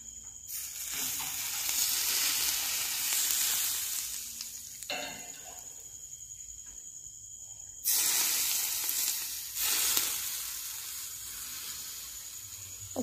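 Fenugreek and spices fry in a pan with a hissing sizzle. It comes in two strong bursts separated by a quieter stretch, then fades toward the end.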